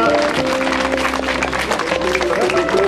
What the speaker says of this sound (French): Ça mérite de nouveaux applaudissements pour Gwenel Simon, le coureur de la cité de Plouvien.